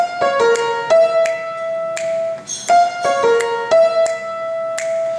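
Piano plays the high synth line of a song as a string of clear, ringing single notes in a steady rhythm, close and alone.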